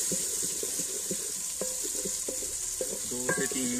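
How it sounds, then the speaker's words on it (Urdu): Ginger paste and onions fry in a karahi, a continuous close sizzle with a series of light spoon clinks and taps against the pan while stirring, no talking. "اور اب ان کو اچھی طرح بھون لیں گے پیاز کے ساتھ"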